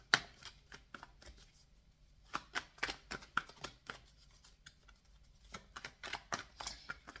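Oracle cards are shuffled close by in a quiet room, giving a quick run of crisp, papery flicks and slaps in uneven bursts with no speech.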